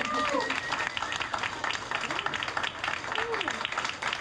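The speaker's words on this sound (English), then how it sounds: "let's give one more big round of applause to Dr." Audience applause for a speaker at the close of a science talk, a steady crowd clapping with a few whoops and faint voices mixed in.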